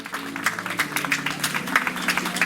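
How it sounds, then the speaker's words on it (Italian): Audience applause at a beauty pageant awards ceremony, a steady patter of clapping from a moderate crowd lasting throughout, fairly even in level. "Un applauso alla fotografa Antonella"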